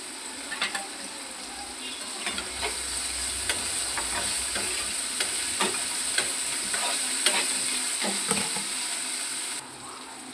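A small handful of curry leaves frying in hot oil while being stirred, a continuous crackling sizzle with frequent ladle taps and scrapes against the pan, close and steady throughout.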